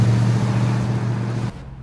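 1965 Ford Mustang Fastback driving, a deep steady engine rumble close by for a short stretch before dropping off abruptly.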